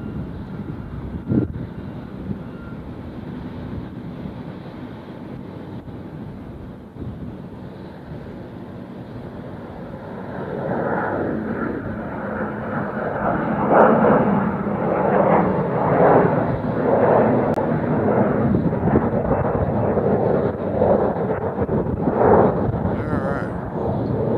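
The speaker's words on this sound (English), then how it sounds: "Looks like a little JetBlue action coming in on the far runway over there." A JetBlue airliner landing on a distant runway at Nashville International Airport gives a faint engine rumble that swells and grows louder midway, then holds steady. It sits under ambient outdoor noise.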